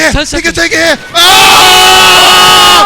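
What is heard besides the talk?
crowd cheering wildly at a Street Fighter tournament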